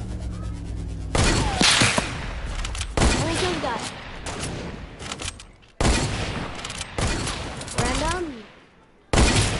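Rapid bursts of video game gunfire in a shooter match, with loud clustered volleys and sharp cracks through most of the stretch, while players talk excitedly over the shooting.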